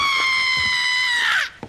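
A woman in an animated horror scene screams in fright, one long, loud, high sustained shriek that holds steady and then breaks off abruptly.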